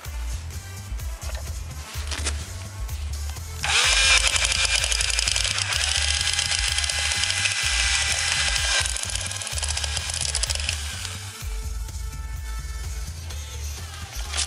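Power drill with a masonry bit grinding into hard material in a long, loud, continuous whine over a steady low rumble, close and with no talk.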